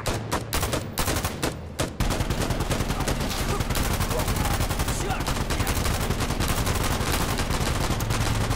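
Rapid automatic gunfire from a multiplayer match in Insurgency Sandstorm, with a few separate shots followed by a long sustained stream of loud bursts that dominate the scene.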